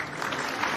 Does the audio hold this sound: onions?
no